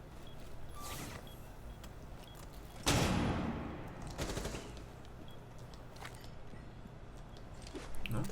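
Gunfire in a Rainbow Six Siege esports match, scattered shots and short bursts with one sharp loud volley midway, heard at a moderate distance over steady game ambience.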